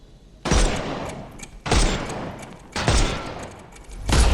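Gunshots in Sherlock Holmes Chapter One, three loud, evenly spaced blasts about a second apart, each a sharp broadband crack with a short decaying tail, and a fourth beginning at the end.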